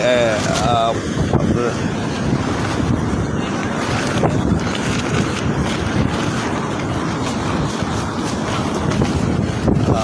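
Strong, steady wind from Cyclone Remal roars across the microphone on the beach at Cox's Bazar, with surf and gusting buffeting throughout and no break in the noise.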